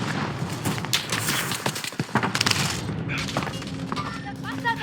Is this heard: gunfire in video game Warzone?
yes